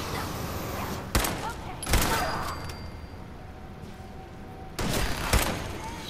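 Heavy gunfire during a Fallout 4 battle at the Corvega assembly plant: a few loud, sharp shots and bursts spaced over a steady rumbling background, with clustered blasts near the start and again toward the end.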